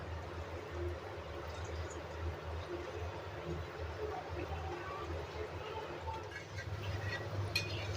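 Gulab jamun balls for a fasting-day recipe frying in hot oil, giving a steady, soft, continuous sizzle and bubbling with no talking.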